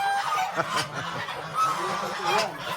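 A crowd of breeding poultry in a breeding setup, a noisy chorus of honking, clucking calls close by, with someone talking over them.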